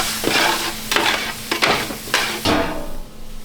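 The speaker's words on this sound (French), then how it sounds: "Donc là on fait suer nos échalotes." Shallots sweating in a pan while pâté en croûte is prepared, with steady soft sizzling broken by several louder stirring scrapes and clinks of a utensil against the pan, close and without talk.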